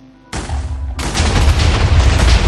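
A TNT cluster bomb going off in Minecraft: one sharp blast hits after a short quiet, then a second, bigger boom swells into a loud, sustained rumbling roar that lasts to the end.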